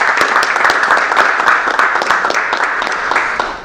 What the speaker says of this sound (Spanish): Y le damos un aplauso fuerte al Rey.